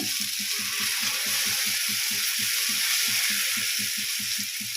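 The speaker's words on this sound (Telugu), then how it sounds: "అట్ల ప్యాన్ వీటెక్కిన వెంటనే మనం కలుపుకున్నది ఉంది కదండి, ఇలా వేసుకోవాలి." Eggless omelette batter sizzles steadily on a hot pan, a loud and close wash of hissing broken by a fast, regular crackling pulse, with no talking.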